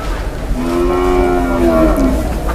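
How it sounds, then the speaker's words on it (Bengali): A deshal cow bellows a long, loud moo while being unloaded from a truck at a cattle market, the low drawn-out call rising over steady background rumble and crowd noise. "আবার কষ্ট করে গরুটা নামানো হইলো"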